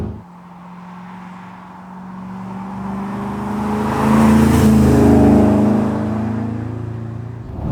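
An Aston Martin Vantage V600 Le Mans V8 roars and climbs in pitch as it accelerates hard, growing louder midway, with a deep throaty rumble and no talking.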